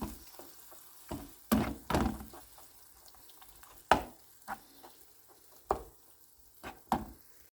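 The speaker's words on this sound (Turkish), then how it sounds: "Onu da şöyle güzelce bir kokusu çıkana kadar soğanla birlikte kavuracağım." Tomato paste and onion sauté in a pan, with a soft, low sizzle and a few sharp spatula scrapes and knocks coming at uneven intervals, close and fairly quiet.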